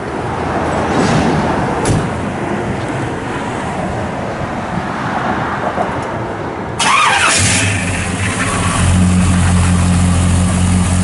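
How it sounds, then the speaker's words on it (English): A 1955 Chevrolet Bel Air two-door hardtop engine cranks and fires after steady background noise, then settles into a smooth, even idle that carries on to the end. "Fires right up."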